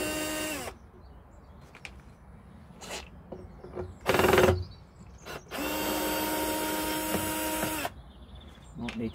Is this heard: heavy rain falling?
no